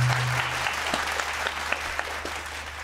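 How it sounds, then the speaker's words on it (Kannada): Audience applause at a devotional music concert during a Ganesh festival in Bengaluru, steady dense clapping from a crowd filling the space throughout, with no voices over it. "ದಯವಿಟ್ಟು ಜೋರದ ಒಂದು ಚಪ್ಪಾಳೆ."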